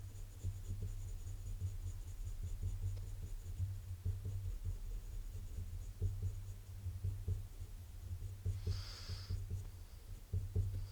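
A black pencil burnishing drafting film in circular movements, a soft continuous scratchy rubbing up close with steady repeated strokes.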